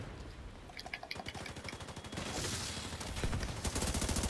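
Gunfire in The Division 2 during a Razorback fight, starting with sparse single shots, then quickening into dense, loud rapid fire that builds to the end, with no voices over it.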